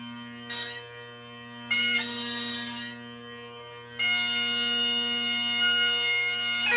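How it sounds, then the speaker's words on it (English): Scottish Highland bagpipes play alone, their steady drones humming under a chanter melody that comes in bursts and then swells to a loud, continuous, reedy tone. "So I'm going to play, here we go, the Highland pipes, the bagpipes from Scotland and Ireland."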